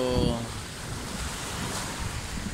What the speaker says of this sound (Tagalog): malakas ang alon sa dagat